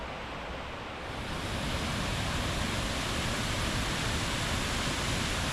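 An artificial waterfall below a dam on the Koyva river pours in a steady, loud, broadband rush that rises after a moment and then holds a constant dense roar, with no voices.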